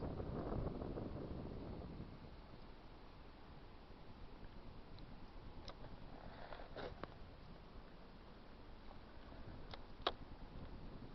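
Wind gusting past a microphone on a fishing trip out on the water, a steady broad rumble and hiss that stays loud and continuous throughout, with a few faint clicks and knocks near the end.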